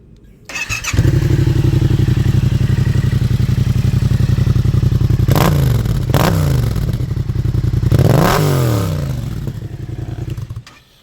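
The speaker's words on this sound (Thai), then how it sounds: "ฟังเสียงเครื่องยนต์" A 2016 Yamaha MT-07 motorcycle with 45,000 km on it starts up and settles into a steady, close idle, with three sharp throttle blips rising and falling before the engine shuts off.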